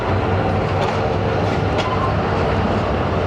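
The Allama Iqbal Express standing at Lahore station, a loud, steady rumble of rail equipment with a dense low drone and a few faint clanks, continuous from start to end.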